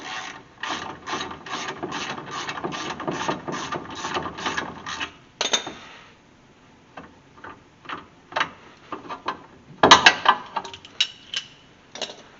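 Ratchet on a torsion bar puller for a 1999 Ford F150 clicks in a fast, even run of sharp ticks, then slows into scattered, irregular clicks as pressure is backed off, close and clear.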